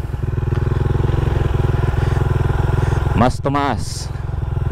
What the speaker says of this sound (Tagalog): tumaas siya yung RPM natin, pero nakakarinig ako ng ibang kakaibang sound sa RPM